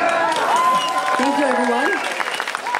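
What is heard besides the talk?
audience applause for Jack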